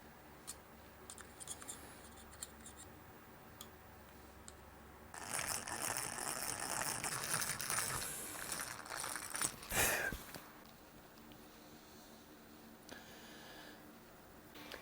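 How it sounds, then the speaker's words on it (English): Guitar tuners and their mounting screws going into a handmade guitar headstock, soft close clicks and scraping followed by a denser burst of screwing and handling noise, with a sharp knock near the end and no talking. "then I'll turn it over and put the mounting screws in the back"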